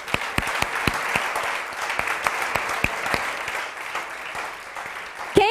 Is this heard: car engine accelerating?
no